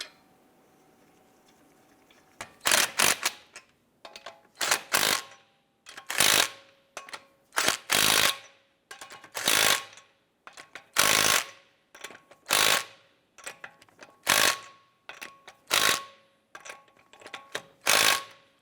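Lug nuts are run down on the wheel of a 2012–2017 Toyota Camry with a ratcheting tool, giving about a dozen loud, close bursts of rapid clicking, each a second or so long and separated by short pauses.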